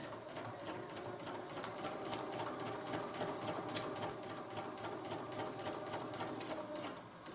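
A sewing machine stitches steadily for several seconds while a quilt block is paper-pieced, its fast even needle rhythm running close and continuous with no talking.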